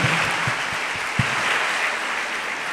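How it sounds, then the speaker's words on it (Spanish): A congregation in a church sanctuary gives a steady round of welcoming applause, dense and sustained throughout with a few sharper low thumps mixed in, no voices on top. "El santuario les da un aplauso de bienvenida."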